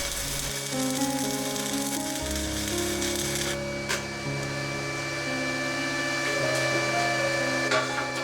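Welding on an industrial-style wood and metal bed frame gives a continuous close sizzling crackle over a steady electrical hum, with a couple of brief sharper pops along the way.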